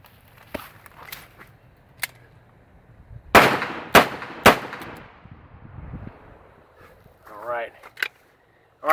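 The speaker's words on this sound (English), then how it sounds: "Let's do a thumb cock from the draw, single action, and then we'll do 2 follow-up shots as quickly as we can" A revolver fires in a single-action thumb-cocked draw with two quick follow-up shots: three loud, sharp cracks close together, surrounded by softer handling clicks and movement, with brief speech at the end.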